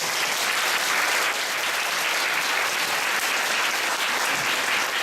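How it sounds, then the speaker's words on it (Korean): Students at a motivational English lecture at Hanjung University applaud the teaching assistants, a loud, steady wash of many hands clapping that carries evenly throughout without any voices. "여러분 박수 한번 주세요"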